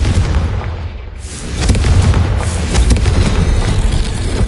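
Confringo spell explosion in a video game, a loud sustained booming rumble that swells after a second and keeps roaring to the end, heavy in the low end.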